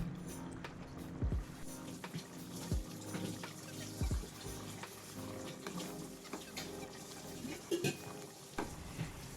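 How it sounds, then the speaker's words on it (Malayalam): Green grape pickle with vinegar boiling in a pan while being stirred: a low bubbling simmer broken by irregular soft thumps and scrapes of the spoon, with no talking. "ഇനി ഇതിലേക്ക് ഒരു അരക്കപ്പ് വിനാഗിരി ചേർത്ത് കൊടുക്കുക വിനാഗിരി ചേർത്ത് നന്നായിട്ടൊന്ന് തിളപ്പിച്ചെടുക്കണം"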